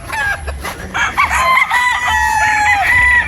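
Boston Roundhead straight-comb broodstag rooster crowing nearby, a drawn-out cock-a-doodle-doo with other fowl clucking and crowing faintly in the background.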